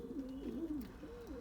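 A mealie pigeon cockbird coos in low, wavering phrases, two rolling calls close by with faint background noise between them.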